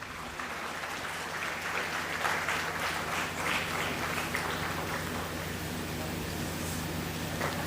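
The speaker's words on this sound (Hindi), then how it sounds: "आप सभी की जोरदार ताली होनी चाहिए।" An audience at a school education society event applauds with sustained clapping that rises slightly and then holds steady, filling the hall with dense, even applause.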